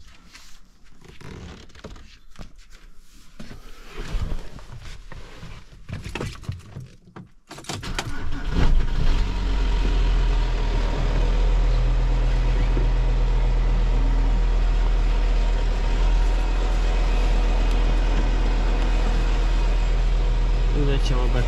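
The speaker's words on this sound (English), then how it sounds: "I sada palimo motor." A VW Touareg 2.5 R5 diesel engine cranks and starts at about seven seconds, then settles into a loud, steady idle rumble close by; before that come handling noises, rattles and some talk.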